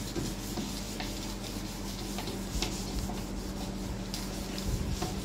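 A soft Scotch-Brite pad scrubbing the inside of a fridge, a continuous close rubbing and rasping with faint ticks and knocks throughout, steady in loudness and with no talk.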